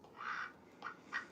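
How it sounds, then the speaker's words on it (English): A pet duck gives three nasal quacks, one longer call followed by two shorter ones, close and fairly quiet with no talking. "This is my duck Olivia."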